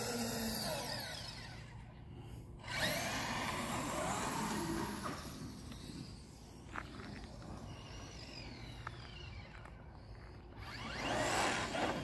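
Traxxas X-Maxx RC truck's electric motor straining on storage batteries outdoors, a steady whining drone with rough grinding texture running through the whole stretch, rising and easing in places.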